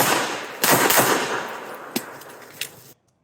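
Pistol shots during USPSA practice drills at an outdoor range, a quick string of sharp cracks at moderate distance followed by silence, with no talking.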